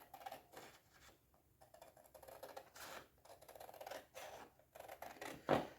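Scissors cut through paper while an invitation decoration is being made, giving a run of close, crisp snips and rustles that ends in one sharper, louder cut.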